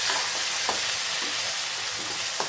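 Onions sauté in a pan for prawn curry, giving a dense, close sizzle with faint stirring scrapes ticking through it.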